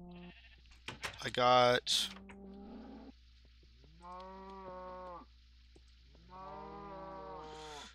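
Cows moo and sheep bleat in a video game, several drawn-out calls spread across the scene with a clear quiet gap between them, while someone briefly talks over game sounds at the start.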